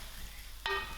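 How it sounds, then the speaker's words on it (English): Masala spices hit hot oil over browned onions in a pan for a chickpea and spinach curry, setting off a sudden short sizzle after a moment of quiet. "I'm going to throw in all my masalas to the oil."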